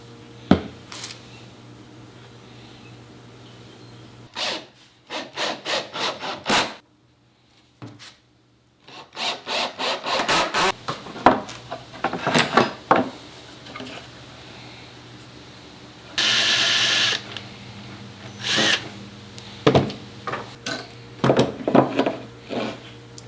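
Wooden pieces of a simple watercolor field easel being glued and screwed together, with repeated rubbing, scraping and short bursts of driving and handling noise in close, intermittent clusters, and no talk.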